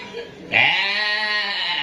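Goat giving one loud, drawn-out, nasal bleat close by that holds steady for more than a second, after a brief quiet moment.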